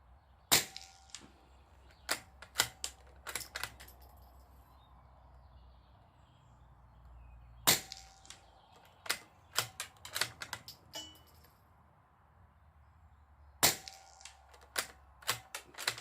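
A Norinco JW15 .22 bolt-action rifle, custom-built, fires during an ammunition test: sharp, isolated cracks in loose clusters separated by short pauses, with faint outdoor birdsong between shots and no talking.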